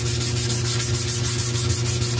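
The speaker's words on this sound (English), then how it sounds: "the center section here I can't get at with the sander, so just gotta do it by hand then." Steady, close hand sanding of a plastic e-bike battery box, a dense continuous rasping scrub with a regular back-and-forth rhythm and no voices.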